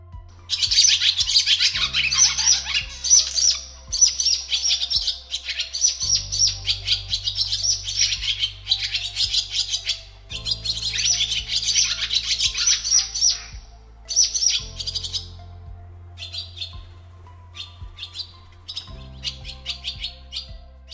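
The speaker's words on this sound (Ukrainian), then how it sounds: "Ластівка весело цвірінькає. Її спів мелодійний і радісний" A swallow twitters in quick, bright chirping bursts, lively and close, with short pauses between phrases and a faint low hum underneath.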